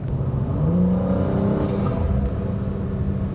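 BMW F30 with N55 engine and upgraded high-pressure fuel pump accelerating gently at light throttle, a steady close engine drone with a slowly rising tone and smooth rumble.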